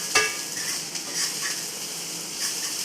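Garlic and onions sauté in fried chicken grease, a moderate steady sizzle with occasional scraping stirs and light clinks of a utensil against the pan.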